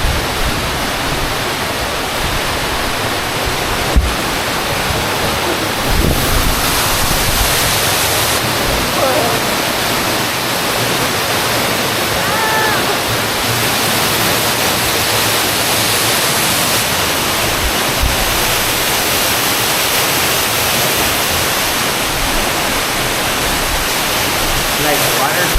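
Glacial meltwater stream in the Colorado mountains rushing steadily, a loud, unbroken broadband roar of churning water that holds level for the whole stretch.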